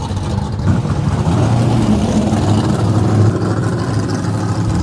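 Modified cars at the Summernats car festival rumble and rev continuously, a dense, loud engine roar with rising and falling throttle, crowd and street ambience mixed in.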